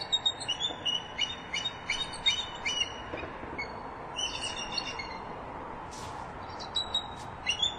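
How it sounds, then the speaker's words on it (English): Bald eagles Liberty and Guardian give alarm calls at a Redding nest, a series of sharp, high chittering chirps in repeated bursts, fairly distant over quiet background. "we start to hear Liberty sound an alarm, and Guardian follows suit very quickly"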